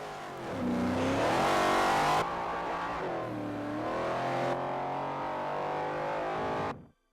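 An A-class muscle car in a racing video game revs hard, its engine pitch rising and falling through the gears, loud and close, then cutting off abruptly at the end.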